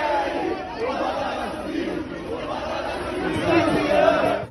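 A crowd of football supporters celebrates after a Série A match, with a dense mass of chatter and shouting that carries on steadily and swells louder toward the end.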